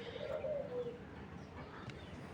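A club pigeon coos quietly nearby, a short low warbling call early on and then fading into soft room noise, faint throughout.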